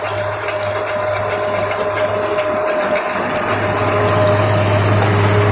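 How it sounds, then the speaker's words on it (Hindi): A tractor-mounted trencher tearing through tight soil and flinging it, a loud, constant engine hum under rapid rattling and crunching, rising slightly in level toward the end. "ये वाली जो मशीन है ये मिट्टी को फाड़ के फेंक रही है और बहुत सुपर फास्ट काम करती है ये।"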